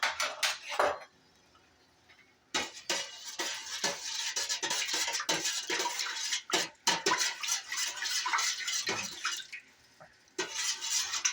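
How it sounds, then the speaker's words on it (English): Homemade BBQ sauce with ketchup stirred quickly in a bowl or pot, a spoon rapidly scraping and clinking in continuous bursts with a brief pause, close and clear, no talk. "Gonna go ahead and give that a quick stir to help incorporate real quickly"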